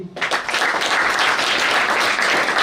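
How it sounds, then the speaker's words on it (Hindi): Loud, dense crowd applause at a BJP political swearing-in gathering in Delhi, a steady wash of clapping that swells in after a brief quiet start and holds evenly to the end. "जोरदार ताली"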